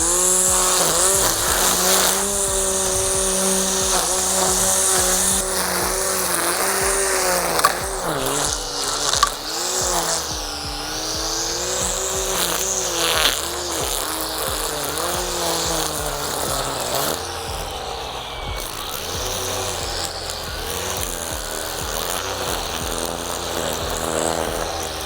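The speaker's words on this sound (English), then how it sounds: "It gives me plenty of area as I'm clearing out some grass here" Ryobi 40V HP attachment-capable 17-inch string trimmer clearing grass, a steady loud whining motor drone running nearly nonstop with small pitch swells as it cuts, close to the listener and with no talk.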